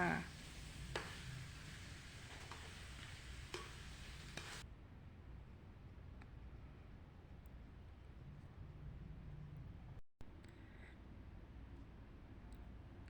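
Chili curry paste is stir-fried in a pan, giving a steady, low sizzling hiss with faint scraping that quiets partway through.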